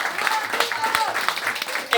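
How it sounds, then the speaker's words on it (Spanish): An audience at a neighbourhood gathering in Barrio Parque Adam claps, brief dense applause with voices mixed in, moderately loud and continuous for two seconds. "El aplauso para ellos."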